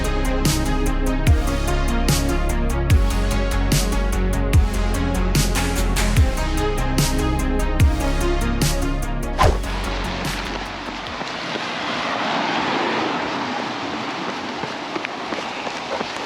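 Torrential heavy rain pours down on a runner along the Thames Path during a 100-mile race, first under steady music-like tones and footfall thumps, then as a dense, loud, continuous hiss of rain filling the last few seconds.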